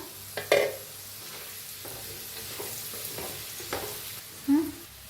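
Potato pieces cooking in a pan are stirred with a spatula, giving scraping and clinking strokes over a steady sizzle, with a couple of louder knocks against the pan near the start and end.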